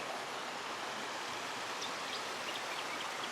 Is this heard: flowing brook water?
yes